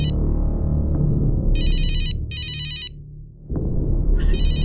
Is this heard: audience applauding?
no